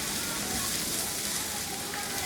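Green capsicum frying in a pan for chicken fried rice, a steady close hiss and crackle of hot oil that holds unbroken throughout.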